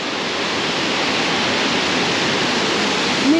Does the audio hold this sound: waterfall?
yes